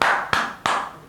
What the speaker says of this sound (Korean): 1주년 기념 박수!